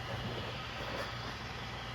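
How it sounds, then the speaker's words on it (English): A steam E2 tank engine from a train story's sound effect rolls along as a steady, dense rumble without distinct puffs, continuous and fairly close, with no one talking over it. "The engine puffed closer."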